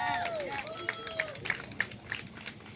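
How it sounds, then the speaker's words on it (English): An outdoor crowd at a Hispanic Heritage Month peace rally in a park applauds a council member, a steady wash of clapping and cheering that runs throughout, with a voice talking over it near the start. "Give her a round of applause."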